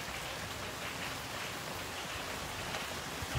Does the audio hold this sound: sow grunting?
no